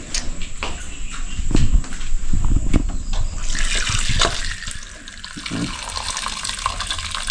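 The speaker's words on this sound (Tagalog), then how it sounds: "Yan, so lagyan natin ng tubig." Water is poured into a homemade high-pressure water pump, a steady splashing rush that swells and brightens partway through and keeps running to the end with no one talking.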